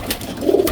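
A pigeon gives a brief, low coo up close in a pigeon loft, soft and muffled against a steady background hiss.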